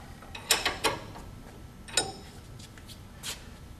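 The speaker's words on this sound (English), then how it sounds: "Undo the nut." A wrench undoes a nut on an Ultra 225 double-sided planer, producing a few quiet, close metallic clicks and ratcheting ticks in short clusters with pauses between.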